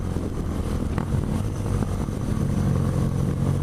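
A 2017 BMW R nineT Pure motorcycle rumbles steadily while being ridden, its engine note constant and close with wind noise throughout.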